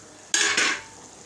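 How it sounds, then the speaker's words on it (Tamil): A lid lifts off a pan of spicy Chettinad brinjal masala with a short metallic scrape and clatter, followed by a brief bright hiss of escaping steam that fades within a second. "இப்போ ஓப்பன் பண்ணி பார்ப்போம், வெந்துருச்சா என்னன்ட்டு ஓப்பன் பண்ணி பார்ப்போம்"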